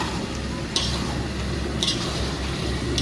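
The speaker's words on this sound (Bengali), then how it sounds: "এবার ভালো করে কষিয়ে নেবো মাংসটা" Chicken pieces frying with spices in a pan, a steady close sizzle broken by three sharp scraping strokes of the spatula as the meat is stirred.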